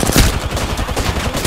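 Gunfire from a sniper rifle in an online team shooter video game, dense loud bursts and shots filling the whole moment, with no voices over it.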